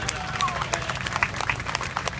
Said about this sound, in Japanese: 皆さんもう一度大きな拍手をお願いいたし